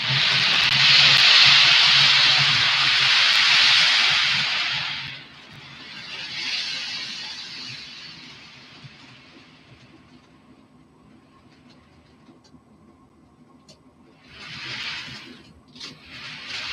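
An American-style model locomotive running on a layout set up under a van, a loud steady hissing rush that fades to a low rumble, then returns in a short burst near the end.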